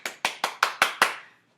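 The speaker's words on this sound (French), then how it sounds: "I am clapping it up, you know, for your efforts in French because you guys deserve it" Hands clap six times in an even, quick rhythm, close and crisp, with a short decay after the last clap and no talking.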